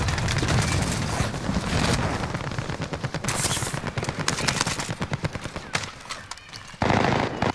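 Loud, rapid bursts of automatic gunfire fill a Call of Duty: Modern Warfare match, with dense volleys of close shots and brief pauses between strings of fire.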